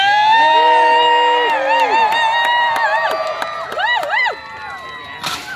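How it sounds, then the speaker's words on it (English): Spectators at a medieval jousting festival at Upper Canada Village cheer and shout, with drawn-out, rising voices over a steady crowd roar. Short, loud bursts come near the end. "And the crowd goes crazy!"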